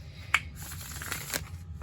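A deck of tarot cards gets a quick shuffle, with a couple of soft riffling snaps and papery rustles heard up close in a quiet room.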